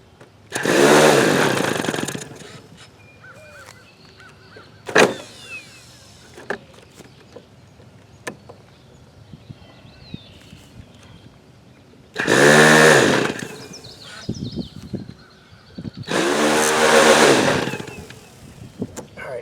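A Hangar 9 T-34 Mentor model airplane's small glow-ignition engine runs in short bursts on a test stand: loud, high buzzing runs of a few seconds each, separated by quiet gaps with sharp pops and clicks.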